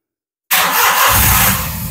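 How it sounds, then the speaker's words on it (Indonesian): A car engine cranks and fires up on a lithium battery pack with a 100A BMS, starting abruptly after silence, then running loud and steady with a rough, rising rumble. "BMS nya dan baterainya sangat lancar sekali untuk starter mobil mobil ya"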